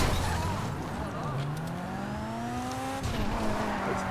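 In GTA 5 a car brakes hard, its tires squealing in rising and sliding tones over a loud engine, a near, continuous screech with a second squeal near the end, and a voice faintly present underneath.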